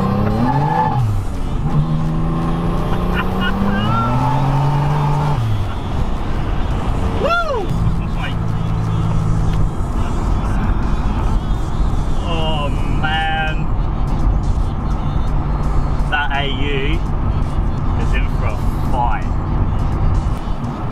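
Toyota Camry sleeper with a roughly 500 bhp engine revving and accelerating up close, pitch rising and falling through several sharp rev bursts, with a steady drone underneath and a voice talking over it.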